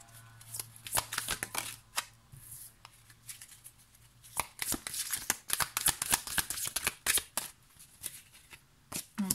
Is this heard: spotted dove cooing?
no